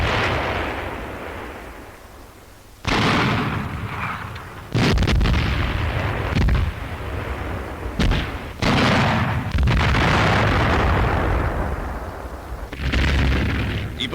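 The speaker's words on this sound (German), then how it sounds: "Englische Tanks, die den Rückzug der Lastkraftwagen decken sollten, werden in direktem Beschuss vernichtet." Wartime newsreel combat with direct gunfire against British tanks: repeated heavy booms and explosive bursts at irregular intervals over a constant loud rumbling background.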